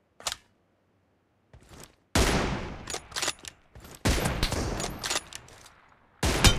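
Gunfire in a mobile shooter game: a single sharp shot, a pause, then loud bursts of rapid fire in several volleys separated by short gaps, close and harsh with no talking.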